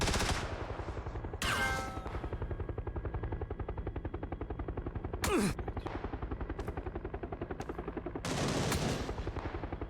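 Sustained automatic gunfire in the video game PUBG, a dense rapid rattle running through the whole stretch, with several louder sharp bursts standing out and no talk over it.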